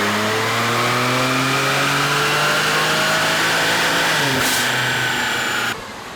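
A tuned car's engine revs hard on a chassis dyno, pitch climbing steadily through the gears in one long loud pull, then cutting off abruptly near the end.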